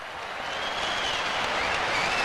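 A small crowd at a 1986 world championship match applauds after a rally, a brief, even wash of clapping that holds steady and slightly swells, heard alone without talk.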